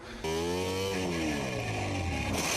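A MotoGP racing motorcycle's engine snaps up to a loud, high-revving scream as the rider gets on the throttle, climbing and shifting pitch steadily and dominating the sound close by.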